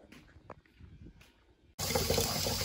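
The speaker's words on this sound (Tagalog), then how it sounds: "super lakas po ng tubig namin dito" Strong water flow from a kitchen tap bursts on abruptly after a quiet stretch of small household sounds, a loud, steady, close rushing gush that keeps going to the end.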